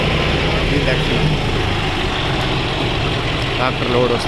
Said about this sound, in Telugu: ట్రాక్టర్ లోడ్ వస్తూ ఉంది.